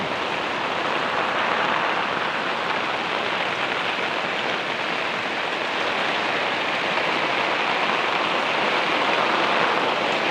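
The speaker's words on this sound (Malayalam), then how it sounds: "ഇന്ന് നല്ല മഴ" Heavy rain pours down in a dense, unbroken roar, steady and close throughout with no voices.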